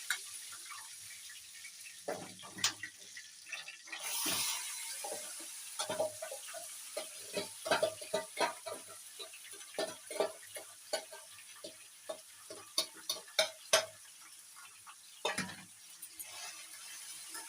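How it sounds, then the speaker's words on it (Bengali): Chicken sautéing in a pot for biryani: a soft, quiet sizzle with irregular clinks and scrapes of a spoon stirring against the pot, close by, with no voices. "এবার দিয়ে দেবো চিকেনটা, পুরো চুলো আছে কষা হবে"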